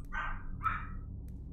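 A pair of short, sharp barks from pet dogs in the house, evenly spaced about half a second apart, moderately loud with no voices over them.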